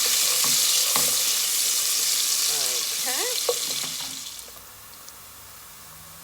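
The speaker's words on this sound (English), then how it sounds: "The red onions. Let that cook down a little bit in that oil." Red onions cooking in oil in a pan give a loud, steady sizzle that gradually fades toward the end, with faint background sounds over it.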